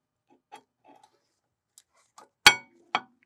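Brake pad on a 2012-2015 VW Passat TDI, a few faint metallic ticks and light taps, then two sharp, close metallic clacks as the pad snaps into place.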